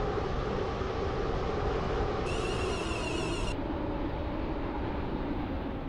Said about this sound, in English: This train is now approaching Stepford Victoria.